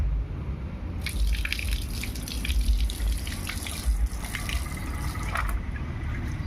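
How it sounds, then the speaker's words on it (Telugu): Sugandha roots being washed in water give a steady trickling, dripping wash of splashes that runs for several seconds, close and moderately quiet. "చూడండి ఈ విధంగా కడుక్కున్నాం సుగంధ వేర్లని"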